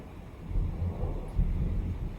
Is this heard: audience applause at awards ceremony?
no